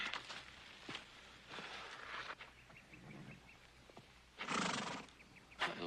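A bandaged, injured horse whinnies and neighs in loud bursts, with hooves clip-clopping in an uneven rhythm between the calls in an outdoor Western setting.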